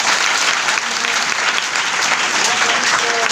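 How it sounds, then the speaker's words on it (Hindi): Sustained applause from an audience cheering for a group at a business success event, steady dense clapping throughout with no pauses. "Yes Chhatarpur all entire group के लिए जोरदार तालियां होना चाहिए।"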